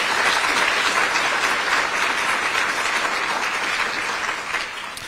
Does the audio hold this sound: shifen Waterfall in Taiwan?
no